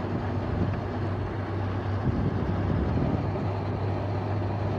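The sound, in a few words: LG window air conditioner fan running up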